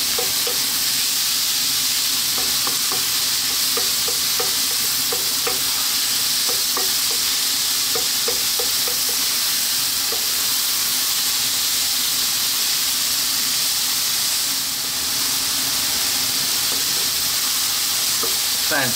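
Bacon and mushrooms fry on high heat for a creamy pasta, making a loud, continuous, hissing sizzle close by, with light intermittent clicks as they are kept moving, and no voices.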